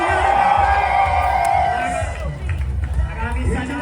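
A crowd at the Pasig Day civic parade cheers loudly in a dense outdoor roar of shouting voices that eases slightly after a couple of seconds, with voices talking in the mix.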